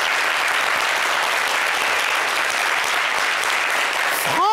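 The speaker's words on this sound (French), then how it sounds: "Applaudissez pour moi." A studio audience on a French-language talk show breaks into thick, continuous applause, close and loud, a dense wash of clapping that holds steady until a brief swooping tone cuts in at the very end.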